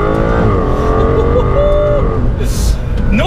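Aston Martin DBS Superleggera with a twin-turbo 5.2-litre V12 accelerating hard, engine note climbing steadily through a gear before a shift, loud and close, with a voice talking over it.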